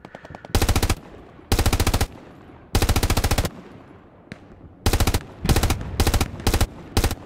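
Machine gun in the WWII shooter Hell Let Loose fires several loud, rapid bursts of varying length, separated by short pauses and echoing tails, with no talking.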